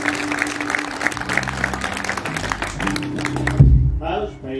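Audience applause greets the performers at a live concert, steady clapping from a crowd that cuts off as an amplified voice begins speaking.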